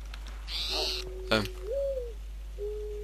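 A bird calls in the video game Minecraft, sounding as a few thin, whistled tones rising and falling over a steady low background hum, with a brief clatter in between.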